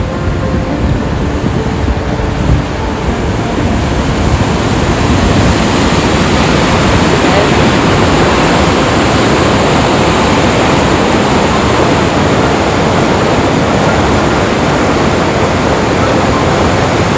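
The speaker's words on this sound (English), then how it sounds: "You're going to see another nice little waterfall right here in a minute." Small waterfall at Niagara Falls, Canada, a steady, loud, unbroken rush of falling water filling the whole stretch with no pauses.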